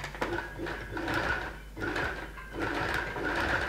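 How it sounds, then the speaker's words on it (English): A sewing machine stitches slowly along a marked line on a garment being refashioned with machine embroidery, giving a close, steady mechanical whir in two sustained runs separated by a brief pause. "So I'm simply going to sew following my line"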